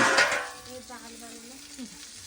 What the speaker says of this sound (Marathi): कौल फ्राय करायला घेतलाय